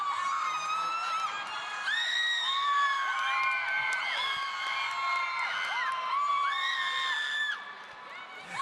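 Crowd at a Black graduation and Kente ceremony screaming, whooping and cheering, a dense, loud wall of high voices with overlapping shrieks that persists throughout before dipping slightly near the end.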